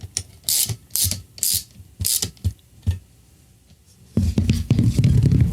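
A ratchet snugs bolts into a snowblower auger gearbox, several short bursts of rapid clicking followed by a longer, denser stretch of ratcheting, close and without talk.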